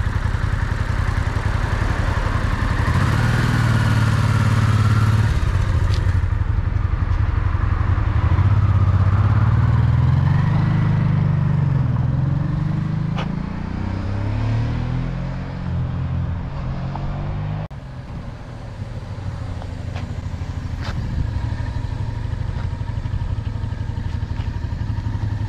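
A Honda motorcycle engine runs steadily at close range, its idle rising and falling through several revs, with light clattering and no talk.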